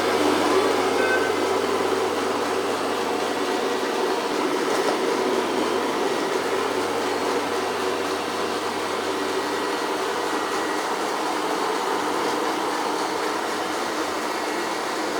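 A Shark AV2501S AI Ultra robot vacuum runs on a hardwood floor, giving a steady, loud broadband whir with a low hum underneath that holds evenly for the whole stretch, with no voices.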